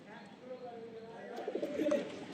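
Pigeons coo in a home loft, soft rolling calls rising toward the end, with someone talking over them.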